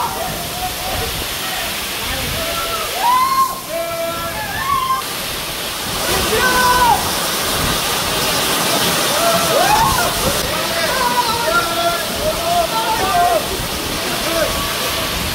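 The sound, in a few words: Sahasradhara waterfall at Sitakunda, water falling from height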